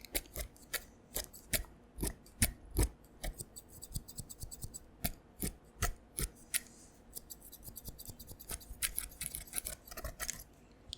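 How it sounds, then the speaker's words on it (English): Scissors snip repeatedly up close, sharp crisp cuts coming in an uneven, fairly steady rhythm, sometimes in quick doubled bursts, with soft handling noise between them. "Snip, snip, snip."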